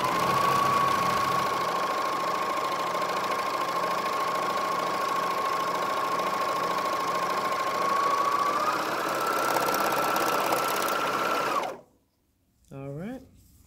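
A Juki MO-600 serger runs at a steady high-speed whirring hum for about eleven seconds, rising slightly in pitch near the end before stopping abruptly, followed by a brief mechanical rattle.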